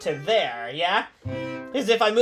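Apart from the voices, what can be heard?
No distinct noise like a dog, phone or traffic.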